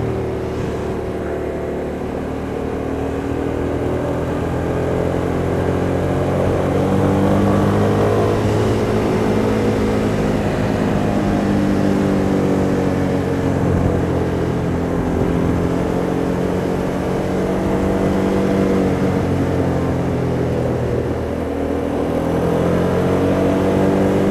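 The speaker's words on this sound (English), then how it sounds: "Love the sound of this bike." A 2008 Hyosung GT650R motorcycle engine droning steadily while riding along an airport perimeter road, close and continuous with gentle rises and falls in pitch as the throttle shifts.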